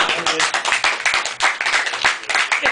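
Quick, irregular handclaps from a small group patter steadily throughout, close and fairly loud, with talking mixed in.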